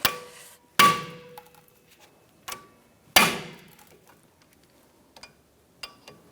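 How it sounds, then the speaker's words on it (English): Sharp metallic hammer blows strike an impact driver set in the small rotor screws of a 2010-2013 Kia Soul front brake: two loud ringing hits with a few lighter taps between, close and alone. "I'm going to use an impact drive screwdriver that you put in these little screws here"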